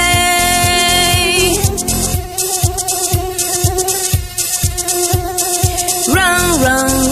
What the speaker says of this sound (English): Fly, fly, fly, annoying mosquito, please don't ruin my day.